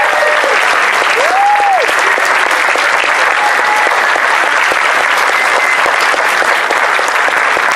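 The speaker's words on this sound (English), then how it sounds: "Ladies and gentlemen, a round of applause for these wonderful people" Loud, continuous applause fills a convention hall at a closing ceremony as the crowd claps for the panel runners, dense and unbroken throughout, with a few faint whoops rising above the clapping.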